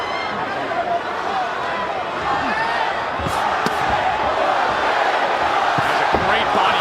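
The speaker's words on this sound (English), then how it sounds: "Crowd already in full voice." A boxing arena crowd roars loudly and steadily through the whole stretch at the Ryan Garcia versus Oscar Duarte fight, with a dense wash of cheering and shouting, occasional sharper thuds, and a commentator's voice likely underneath.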